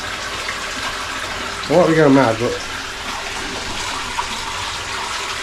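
Koi spawning in a hospital tank churn the water, giving a continuous splashing and sloshing wash, with a brief louder burst of talking partway through.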